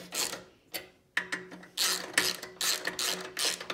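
A ratchet tightens a motorcycle rear shock reservoir mount in a garage, giving quick bursts of close metallic clicking in uneven spurts with short pauses between.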